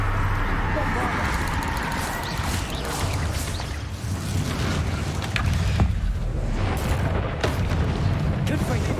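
Bombarda blasting spells going off in Hogwarts Legacy, heavy low booms and rumbling blasts that continue almost throughout, loud and dense, with voices over the top.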